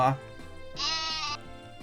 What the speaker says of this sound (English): I'm awkwardly trying to find the button to play the sheep